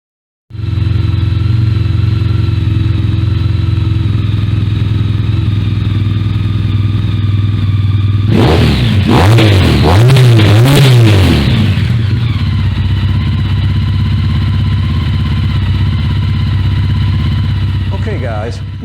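A motorcycle fitted with shortened Delkevic exhaust mufflers starts up and idles steadily, then gets several sharp throttle revs in the middle before settling back to a loud, even idle.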